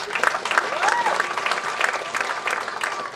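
A wedding reception audience claps and cheers loudly on cue, dense continuous applause with whoops and a voice rising over the crowd throughout.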